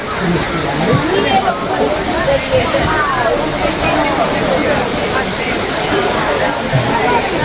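Steady rushing and splashing water from an indoor waterfall at Gardens by the Bay, Singapore, fills the space, a continuous loud hiss with a crowd talking faintly underneath.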